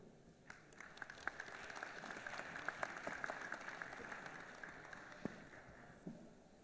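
Applause from a seated conference audience after a panel discussion, a steady moderate patter of many hands over several seconds with scattered sharper claps, heard at some distance in a large hall.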